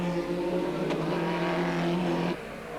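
A TVR Tuscan race car engine in a 1995 TVR Tuscan Challenge race, a loud steady droning roar with strong harmonic tones that holds for over two seconds and then abruptly drops away, leaving quieter engine noise.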